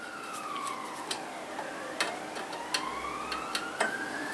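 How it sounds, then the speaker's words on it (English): A distant emergency siren wails faintly in the background, its rising and falling tone sweeping steadily beneath a workshop setting, with scattered light clicks and taps from hands-on work on a plastic decorative lamp nearby. "You might get a siren in the background."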